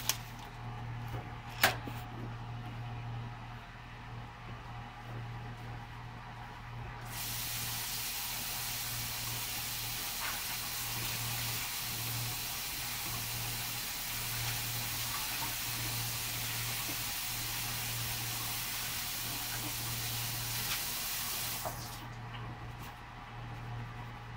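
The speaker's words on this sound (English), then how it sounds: "So I'm going to go ahead and rinse these off." Dyed Game Boy parts rinsed under a running tap, a steady close rush of water flowing for most of the stretch, preceded and followed by a few handling clicks and a low hum, no talk.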